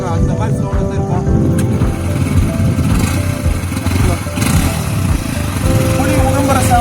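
A TVS Raider motorcycle engine runs close and loud, with a rough, steady revving rumble that swells slightly in places throughout.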